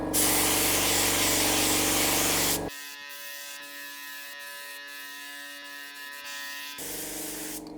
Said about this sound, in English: I'm using an all metal spray gun to apply it evenly on both contact surfaces.